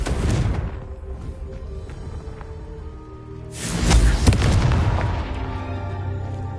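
Confringo, an explosive spell cast in Hogwarts Legacy, lands as deep rumbling booms: a heavy blast at the start fading into a rolling low rumble, then a second, louder burst swelling midway with sustained crackling debris.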